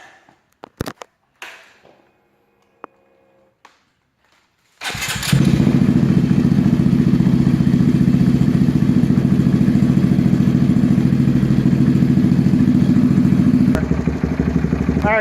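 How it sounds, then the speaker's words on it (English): A Honda Grom motorcycle fitted with an SF Zoom exhaust starts on a cold day after a few clanks and thumps, then settles into a loud, steady, close-up idle that holds for about ten seconds before shifting slightly near the end. "let's fire it up. Let's see what it sounds like."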